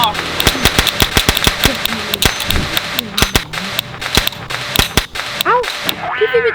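A toy cap gun fires a rapid string of loud, sharp cracks at close range, irregular and almost continuous, with voices rising briefly near the end.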